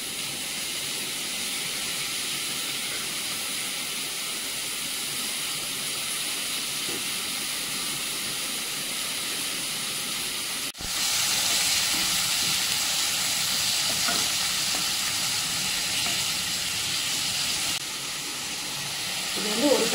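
Chicken pieces go into a hot pan of onions for Guntur chicken, producing a loud, steady sizzling hiss that jumps up partway through and carries on without letting up.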